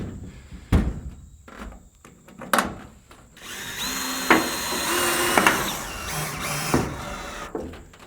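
Power drill driving a couple of screws into wood, with a sustained whir in the middle and sharp knocks and clicks before and after, close by.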